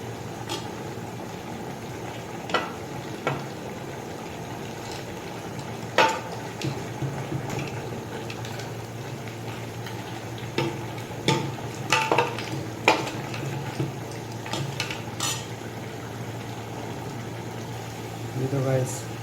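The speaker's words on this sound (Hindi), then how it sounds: "अभी हम इसमें 1 कप जो है ऑयल का ऐड कर देते हैं और इसको हमने अच्छी तरह से भून लेना है ऑयल डाल के।" Beef and pumpkin frying in a cup of oil: a steady low sizzle with scattered clinks and scrapes of a utensil against the pot, heard close by.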